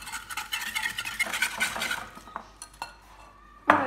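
Eggs being whisked with sugar in a bowl, a busy scraping and clinking rhythm of utensil against the bowl for about two seconds, then sparser taps and a final sharp clink.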